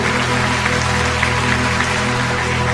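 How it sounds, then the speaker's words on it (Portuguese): A church congregation claps loudly and steadily throughout a Portuguese-language worship service, a dense, even wash of hands over a sustained low tonal hum, with no pause in the clapping. "Dê uma fortíssima salva de palmas para o Senhor Jesus"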